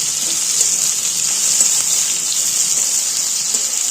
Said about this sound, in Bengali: তো একবারই সব পেঁয়াজটা তাই ভেজে নিলাম